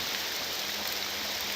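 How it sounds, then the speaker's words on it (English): Steady rainfall in the video game Morrowind, a soft, even hiss of falling water that holds unbroken and fairly quiet throughout, with no other sounds. "through the rain and everything"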